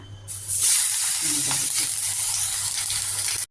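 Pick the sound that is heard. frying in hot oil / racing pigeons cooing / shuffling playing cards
frying in hot oil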